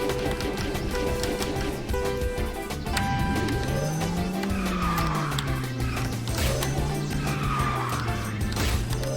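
The Fire Marathon V1 kart races and drifts in the Kart Rider video game, its engine whining and rising in pitch while tires squeal continuously through the drifts.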